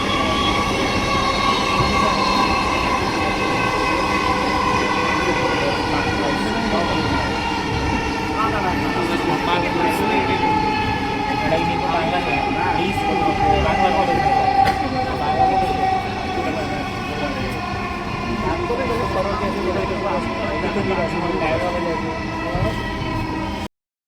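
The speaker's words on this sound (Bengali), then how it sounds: "This train is bound for Motijheel. Next station is Shewrapara." A Dhaka metro train bound for Motijheel runs with a steady, loud rumble and a high electric whine that hold throughout the ride, with no pause.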